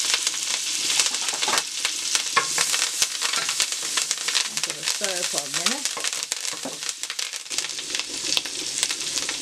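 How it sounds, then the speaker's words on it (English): Garlic and thyme fry over low heat in a pot, giving a steady, close crackling sizzle with occasional stirring scrapes and brief clinks throughout. "In my pot, I'm gonna put the thyme, and it's low. And I'm gonna put my garlic."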